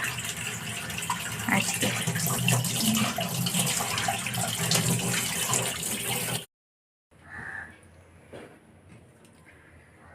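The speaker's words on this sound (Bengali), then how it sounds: "এবার মাছটাকে আমি ভালো করে ধুয়ে নিয়েছি।" Fresh hilsa fish washed under a running tap: a steady, close gush of water for about six seconds, a brief cut, then a quieter trickle with light handling noises, and one short spoken word.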